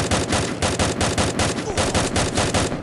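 Dense automatic gunfire in an online shooter match, loud close bursts rattling continuously with overlapping shots from several directions.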